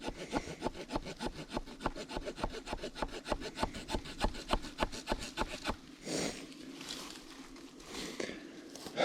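A saw rasps back and forth through a stubborn tree branch outdoors on a hiking trail, with fast regular strokes, close and loud, before the cutting stops and it turns quieter.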